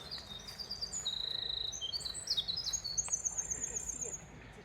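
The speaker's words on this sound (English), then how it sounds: "Everything's quiet in the forest except the one bird." A single bird sings in a quiet forest along the Appalachian Trail, bright whistled phrases repeating over a steady soft background hiss, fairly close and clear.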